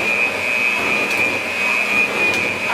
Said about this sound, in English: We're gonna do it slowly. And we shouldn't stop the mixer